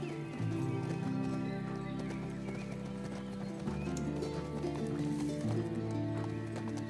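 Rhythmic clip-clop of a horse galloping in the video game The Last of Us Part II, steady hoofbeats with a neigh, accompanied by a synthetic game-like backdrop.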